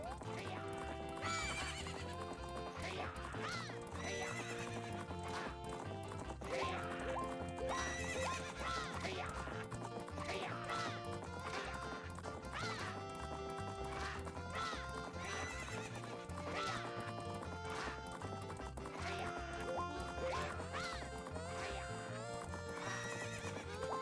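Horse archery run in The Legend of Zelda: Majora's Mask, with galloping hooves and neighs buried under dense, continuous game music throughout; a voice also comes through faintly.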